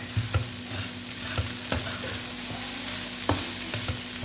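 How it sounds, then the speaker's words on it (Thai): Rice fried with curry paste sizzles steadily in a hot pan, with regular scraping and clacking strokes from a spatula stirring it, close and alone with no voices. "เราก็ต้องผัดให้ข้าว ร้อนนะก็เป็นข้าวเย็นข้าวเราผัดให้เขา"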